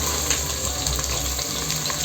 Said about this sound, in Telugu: ఇట్లా ఉల్లిపాయలు అన్నీ వేసేసుకున్నాక పచ్చిమిర్చి, ఇది బాగా వేగాలండి.